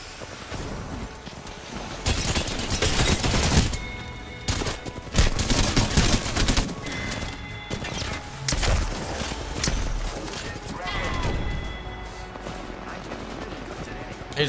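Rapid automatic gunfire from an Apex Legends gun, loud bursts of shots rattling through the whole stretch amid game noise, with a voice talking over it.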